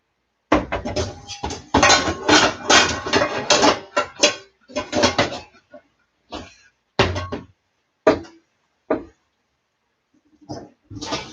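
A seasoned frying pan handled during home cooking gives off a run of loud metallic clanks and scrapes, dense at first, then thinning into separate knocks with short silences between them.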